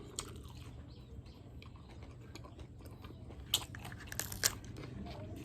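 Crispy fried tilapia served with spicy crab and fermented fish papaya salad is bitten and chewed up close, with a few sharp crunches standing out over quiet background noise.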